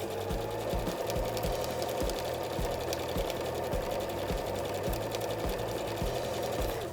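A sewing machine stitches straight quilting lines through a fabric block, running steadily with a fast, even mechanical chatter close by.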